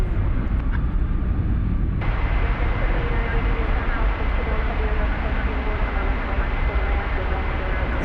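A Qatar Airways Airbus A350-1000 departs from Dallas Fort Worth Airport at night, a steady, distant roar of jet engines that swells after a couple of seconds, with voices talking over it.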